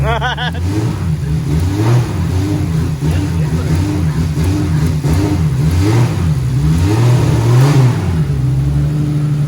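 Nissan Skyline R33 with an RB25DET engine revving hard to the limiter, loud and close, its pitch climbing and bouncing off the cut several times before falling, with a rumbling idle underneath.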